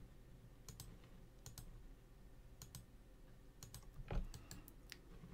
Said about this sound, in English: So hold down shift and click on each of the pink stars.